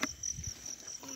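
Field crickets at night, a faint high steady chirping trill over quiet outdoor ambience, with a couple of soft low rustles near the start.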